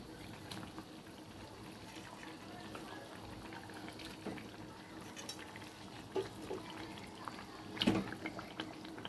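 Pomfret fish curry gravy simmering in a pan gives a soft, steady bubbling hiss with scattered small pops and a louder burst of bubbling near the end, fairly quiet overall.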